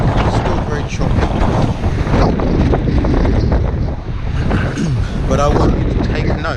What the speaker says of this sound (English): So it's not as windy as it was earlier. It's still very choppy.